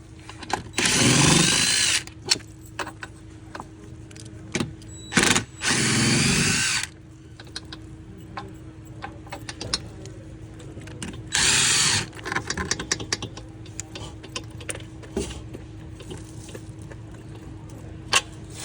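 Power drill loosening bolts on a chair back to remove a cushion: several loud, close whirring bursts of one to two seconds, separated by quieter handling clicks and taps.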